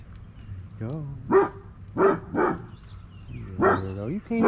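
A puppy gives a string of short, close barks and yips, about five or six bursts spaced irregularly, with people talking between them.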